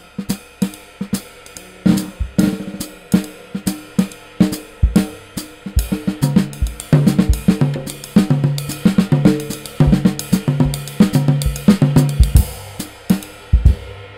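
Cool jazz drum fills on a drum kit: rapid phrases of snare and tom hits with cymbal accents, sparse at first, then denser and busier, loud and close with no talking.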